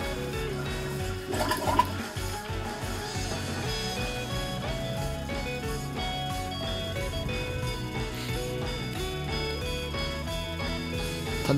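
Drain water pumped by a submersible pump rushes steadily into a nearby toilet bowl during urinal-scale removal work on a blocked pipe, a continuous watery flushing layered under background music.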